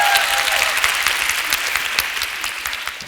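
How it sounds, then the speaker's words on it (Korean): An audience at a talk bursts into loud, dense clapping that stays strong throughout, then thins slightly toward the end, with faint crowd murmur underneath. "너무 당연한 얘기를 하는데 박수를 치시네요."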